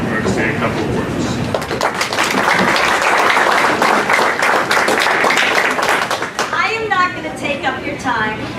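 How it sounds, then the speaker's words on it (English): Steady, dense audience applause fills a Boston Ward 3 Democratic caucus meeting hall for several seconds, then thins out as a voice begins speaking near the end. "That deserves applause."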